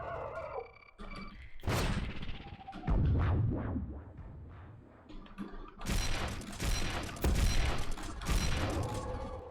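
Double-barrel shotgun blasts in Doom 2, several loud booming shots in irregular succession mixed with clanking game effects and monster noises.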